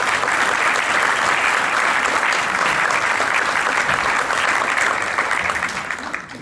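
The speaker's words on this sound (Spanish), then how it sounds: "podemos darles un muy fuerte aplauso a este panel" Sustained, loud applause from an audience for a panel at a talk on family businesses, dense and steady throughout before easing off at the very end.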